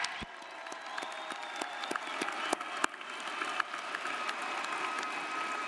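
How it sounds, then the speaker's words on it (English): A large commencement crowd applauds graduates of a university nursing college, a sustained broad roar of clapping with occasional sharp nearby claps and light cheering, steady throughout. "let's give another round of applause for all of our graduates."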